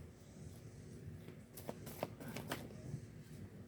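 Tarot cards shuffled by hand for a reading, a faint soft riffling with a few sharper snaps of cards near the middle, close and quiet.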